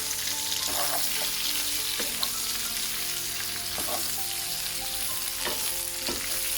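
Pork bites frying in their own rendered fat with no added oil, a dense continuous sizzle with occasional stirring scrapes and knocks, close and loud throughout, no voices.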